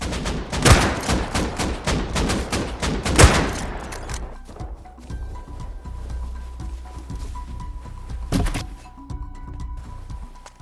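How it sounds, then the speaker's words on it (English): AK rifle fire rings out in the survival game Rust as rapid bursts of sharp cracks over the first few seconds, then fades to quieter ambience before one more close shot. "I heard an AK behind me"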